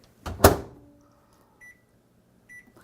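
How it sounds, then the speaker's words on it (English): A microwave door thuds shut on corn soup, followed by two short, clear electronic beeps spaced about a second apart in a quiet room. "we'll put it in the microwave for about 30 seconds"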